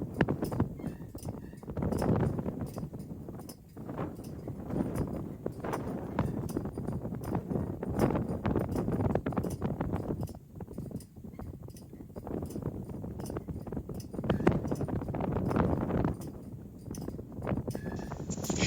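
A horse's hooves clip-clop on the ground during ground work exercises, an irregular series of close footfalls with gusts of wind buffeting the microphone and no speech.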